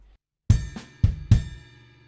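Drum kit groove of kick drum and hand strokes in a paradiddle coordination pattern, a few close punchy hits in quick uneven rhythm with ringing decay.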